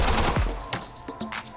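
A quick series of sharp crossbow shots in the Krunker shooter game, several close, punchy hits spaced unevenly across a short burst.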